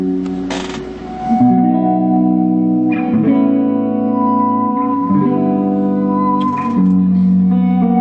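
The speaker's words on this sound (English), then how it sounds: "Here we are with the stock speaker running in stereo with a deluxe reverb amp." An electric guitar plays sustained chords through a Fender Super Champ with its stock speaker, run in stereo with a Deluxe Reverb amp, a touch of reverb, each strum ringing out fully before the next change.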